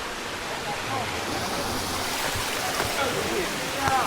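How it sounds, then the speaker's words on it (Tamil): The Marmala waterfall in Vagamon roars as a steady, broadband rush of falling water, loud and unbroken, with a few faint voices nearby. "ஃபால்ஸ் வந்தாச்சு. மர்மலா ஃபால்ஸ்."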